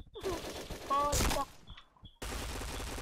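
A burst of sharp pistol shots in GTA San Andreas multiplayer, rapid cracks mixed with effects and a brief voice, followed by quieter rumbling.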